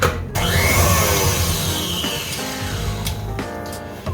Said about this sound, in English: Finally, go ahead and mix in your egg.